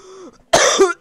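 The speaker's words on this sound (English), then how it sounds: "that cough was so bad that it blew me back in my chair" A person gives one harsh, loud cough up close, followed by a shorter second burst, after a brief voiced sound.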